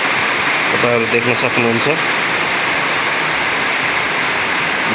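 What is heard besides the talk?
heavy morning rain in Butwal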